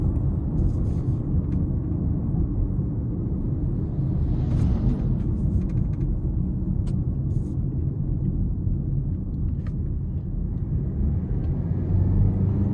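A 2025 Toyota Corolla Hatchback SE accelerates in normal drive mode, heard from inside the cabin as a steady low engine and road rumble that holds even throughout, with no talking.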